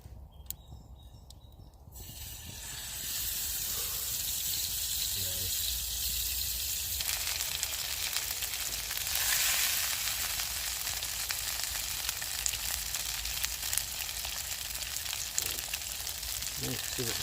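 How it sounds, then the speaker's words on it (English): A fatty venison burger frying in a pan over an outdoor campfire, a steady crackling sizzle that rises after a quieter start and carries on continuously with occasional pops. "I'm just going to fry my burger now."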